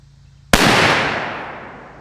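One loud, sharp rifle report from a 16-inch Ruger American chambered in 350 Legend, fired outdoors, cracks suddenly and then rolls away in a long fading echo over a faint background hum.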